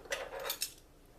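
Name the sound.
measuring spoon adding cloves into a bowl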